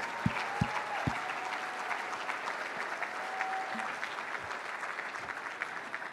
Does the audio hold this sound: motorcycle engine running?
no